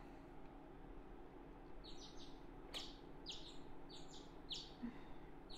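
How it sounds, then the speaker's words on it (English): Morning birdsong from a visual novel game, with a few birds giving repeated sharp chirps and tweets in scattered bursts over a soft, steady background hum, with nobody talking. "The birds chirping woke me up."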